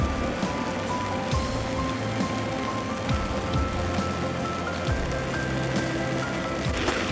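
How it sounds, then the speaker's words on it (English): Rain falling in a redwood forest, a steady dense patter of drops on leaves and ground with occasional heavier plinks, continuous and fairly close, with no voices. "So I'm walking in the rain."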